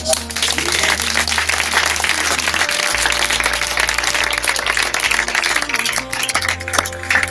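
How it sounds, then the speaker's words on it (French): A church congregation applauds and cheers during a Passover worship service, a dense, steady wash of clapping and crowd noise with sustained music underneath throughout. "Acclame le Seigneur Jésus."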